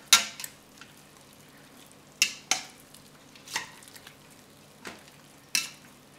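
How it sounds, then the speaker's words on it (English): Stirring sausage, sauerkraut and potatoes in an Instant Pot, with several distinct scraping clinks of a utensil against the pot at irregular intervals, close and moderately loud over a quiet background. "All right, give that a little stir."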